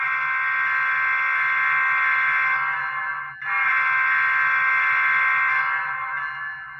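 The horn of a Scaletrains ES44 model locomotive sounds through its small speaker as a loud, steady electronic chord, held for several seconds with a brief dip midway, with no talking.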